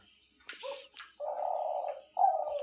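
Eurasian collared doves kept with their chicks give soft, low cooing calls nearby, two sustained coos after a brief rustle, in an otherwise quiet space.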